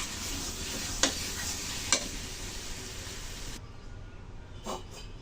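Cabbage ghonto with cumin is stirred in a pan over a steady frying hiss, with two distinct spoon knocks, before the sizzle drops away to a quieter, duller tail.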